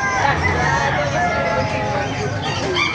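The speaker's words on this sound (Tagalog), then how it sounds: "Papakita ko sa inyo yung mga manok dito sa Bukawi. Napakarami manok dito mas." Chickens and roosters at the crowded Bocaue market cluck and crow in a busy, overlapping chorus, with people chattering in the background.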